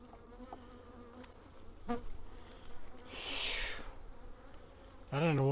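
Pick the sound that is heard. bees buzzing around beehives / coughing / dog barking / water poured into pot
bees buzzing around beehives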